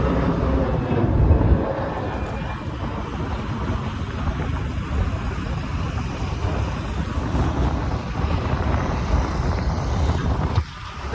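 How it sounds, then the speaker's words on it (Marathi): Steady low rumble of an airplane passing overhead near an airport, loud and continuous for the whole stretch, with a brief dip near the end. "एअरपोर्ट आहे साईडला दोन मिनिटाला पाच मिनिटाला विमान भर भर भर जाते"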